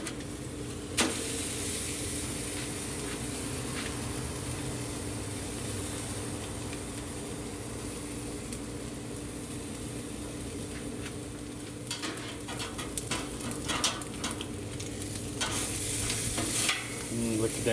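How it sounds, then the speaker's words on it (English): A T-bone steak sizzles on the sear box of a Monument gas grill, with a steady loud hiss and crackle running throughout. Scattered pops and spatters become denser toward the end. "we're gonna lay Rebecca's down on the sear box."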